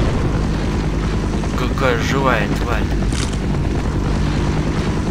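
Helicopter in the Half-Life mod Residual Point, a loud, steady rotor drone with wind-like rushing that runs the whole time, while someone speaks briefly over it.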